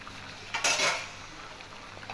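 A utensil scrapes and clinks against a metal pot while veg chicken dalcha is stirred at a boil, one short clatter at close range over a soft simmering hiss.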